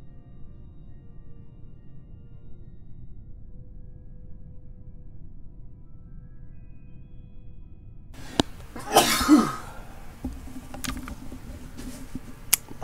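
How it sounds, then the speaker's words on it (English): Sneezing bursts from a person fighting off a cold break a quiet stretch after a long near-silent lead-in, a few sharp close-up sneezes clustered together followed by small handling noises. "My goodness, those sneezes."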